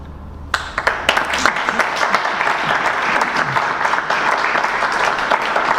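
An audience applauds after a talk on gender-based violence in humanitarian crises. The applause bursts in suddenly and stays loud and near, with crisp individual claps forming a steady, sustained patter to the end.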